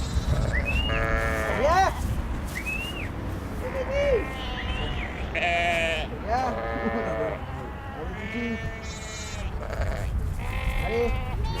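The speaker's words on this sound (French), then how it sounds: "Maintenant on a mis des moutons puis ça tourne tout seul." Sheep bleat repeatedly on a French farm, several high wavering calls overlapping, close and loud, while a person calls out to the animals over steady background noise.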